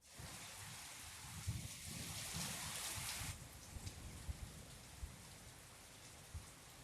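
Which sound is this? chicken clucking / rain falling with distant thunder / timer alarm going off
rain falling with distant thunder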